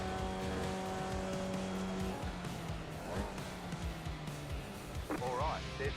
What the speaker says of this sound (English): I shift up into 4th gear to carry more momentum